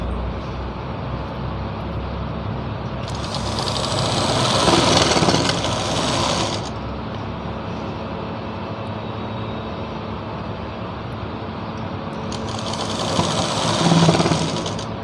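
A sewing machine stitches along a salwar belt for a Patiala salwar, with two loud bursts of whirring stitching rising over a steady motor hum.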